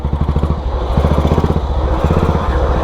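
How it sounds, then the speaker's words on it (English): A riding lawn mower engine pulls hard under throttle in third gear, a close, loud, rapid chugging putter with steady rhythmic firing pulses. "This is what you get with lawnmower engines."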